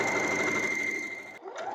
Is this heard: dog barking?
no